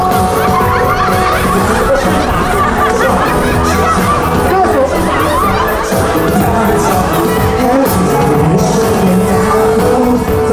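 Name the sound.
crowd of fans imitating snoring together at a concert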